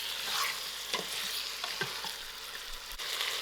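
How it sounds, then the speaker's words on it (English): Mutton frying in a pot for lamb curry, with a steady close sizzle and occasional stirring clatters, no voices. "I'm going to allow the mutton to fry for 10 to 15 minutes till its own fats fry out."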